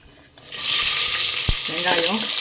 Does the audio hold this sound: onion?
yes